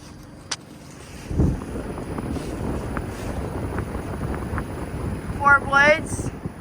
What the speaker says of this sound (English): here you have the Ducane LYNX 18 inverter heat pump running in heat mode. It's blowing out cold air.